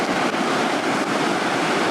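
Ocean surf on a Washington coast washing logs out to sea, a steady broad wash of breaking waves mixed with wind buffeting the microphone, with no voices.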